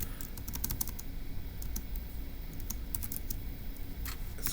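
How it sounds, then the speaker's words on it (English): Steady clicking of typing on a computer keyboard while notes are entered for a Turing Machine logic puzzle, continuous quick keystrokes at close range with a faint background hum and no talking. "let's go ahead and type that up in our notes"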